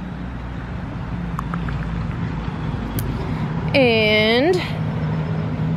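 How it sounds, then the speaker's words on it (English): Traffic on a main street during a spring garden walk: a continuous low rumble of passing vehicles, with a loud horn-like tonal blare partway through, heard near and steady beneath a brief spoken word. "sorry, I'm on the main street, so if you hear traffic, that's why."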